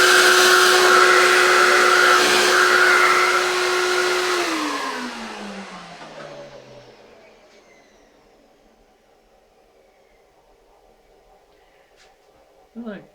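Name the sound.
vacuum cleaner hoovering out a rotary table slot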